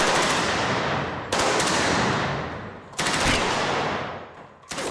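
Thompson submachine gun firing .45 caliber rounds at bowling pins, three long, loud full-auto bursts that each decay into echo, with no talking.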